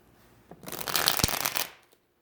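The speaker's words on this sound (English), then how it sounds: "Let's shuffle these." A deck of tarot cards is shuffled close by in one rising and falling riffle of rapid papery flutters, lasting about a second, then stops.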